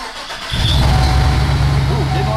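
A car engine cranks and catches during tuning from a blank fuel table, a rough low rhythmic chugging that jumps in loudness after half a second and runs unevenly, with a person talking over it.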